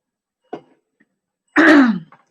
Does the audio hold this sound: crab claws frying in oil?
no